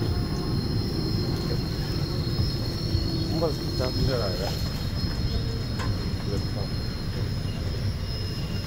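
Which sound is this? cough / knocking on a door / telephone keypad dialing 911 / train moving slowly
train moving slowly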